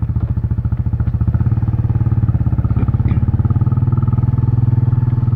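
A Kawasaki Estrella 250 fuel-injected motorcycle, freshly started from cold, idles up close with a loud, even, rapid thumping pulse that holds steady throughout, with no talk.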